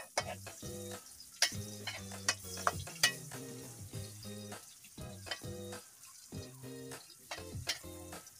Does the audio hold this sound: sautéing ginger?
yes